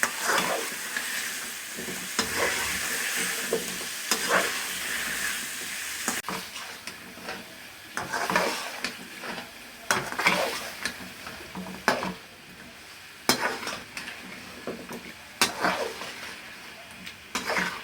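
Spinach and potatoes fry in a pan, a steady sizzle broken by repeated close stirring and scraping strokes against the pan over a long stretch, no voices.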